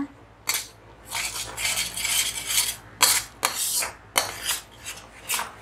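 A spoon scrapes and clinks against a pan while thick milk palkova is mixed with added sugar, steady rubbing strokes with a few sharper metallic knocks, close and alone.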